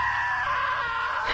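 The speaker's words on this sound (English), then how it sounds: "Now that was a great scream." A woman's scream from the video game What Remains of Edith Finch, one sustained high wailing cry held loud and close for over a second with no speech around it.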